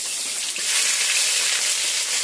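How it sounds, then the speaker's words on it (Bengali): Cumin, bay leaf, garlic and ginger sizzling in hot oil in a home kitchen pan, a close, loud, continuous bright hiss that swells slightly and holds steady. "তেলটা গরম হলো, এই যে এই যে জিরে দিলাম, এই যে তেজপাতা দিলাম, এই যে রসুন দিলাম, এই আদা দিলাম"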